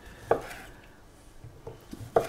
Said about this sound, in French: on va faire la même chose avec les saucisses, à savoir qu'on va couper des rondelles d'un petit centimètre